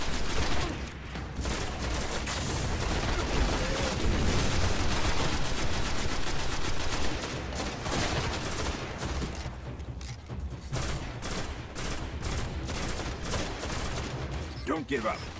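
Heavy, nearly continuous weapon fire in the Destiny beta's Warmind mission, loud overlapping shots and rattling bursts that persist throughout with a brief lull near the end, with a voice talking over the shooting.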